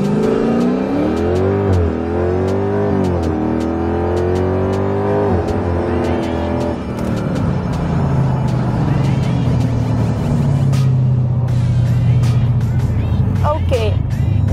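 Jeep Grand Cherokee SRT8 accelerating hard, its engine note climbing loudly through rising pitch sweeps and gear changes over several seconds, then carrying on as a steadier drone heard from inside the car, with someone talking over it.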